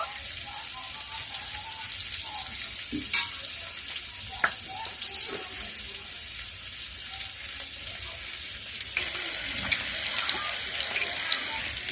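Pointed gourd (potol) frying in a pan makes a soft, steady sizzle throughout, with a few sharp utensil clicks and a slightly louder hiss near the end, quiet and distant with no talking.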